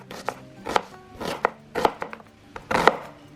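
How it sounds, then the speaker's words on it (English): A knife chops onions into small pieces on a board, five or six distinct thuds at an uneven, unhurried pace, close and clear with nothing else over them. "And with the third one, I'm just going to chop into small pieces."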